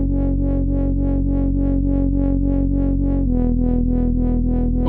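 Speed garage synth bass with a hyper dimension chorus effect, a loud, fat, buzzing tone pulsing in steady repeated notes, dropping to a lower pitch partway through, with no voices.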